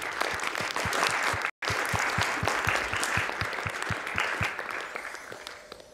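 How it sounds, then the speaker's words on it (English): Steady audience applause for a game developer at the AGDQ 2015 charity speedrun marathon, broken by a very brief dropout, with regular claps continuing throughout and tapering slightly at the end. "can we please just get a quick round of applause for Niflis"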